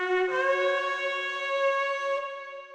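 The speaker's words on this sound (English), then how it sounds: "A ram's horn sounds like this." A ram's horn shofar blown in one sustained, steady blast of nearly three seconds, bright and buzzy with a slight scoop at the start and a brief shift near the end, heard alone and close.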